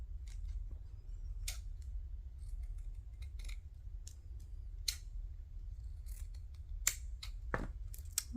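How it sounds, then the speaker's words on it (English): Scissors cutting pieces of boho fabric, a series of crisp, close snips spaced irregularly over a low steady room hum, with no talking. "Just gonna snip,"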